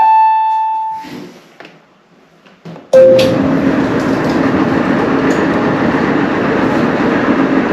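A clothes dryer starts up after its idler pulley and rollers were replaced: a beep and a few handling clicks give way to a loud, steady rumbling drum roll with a faint high whine riding over it.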